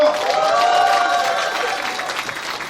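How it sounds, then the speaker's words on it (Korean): Party members at a Democratic Party member education event in Incheon applaud a visiting regional committee chair, the clapping fairly loud and steady, tapering slightly toward the end, with a faint murmur and a held tone beneath. "자, 큰 박수 부탁드리겠습니다"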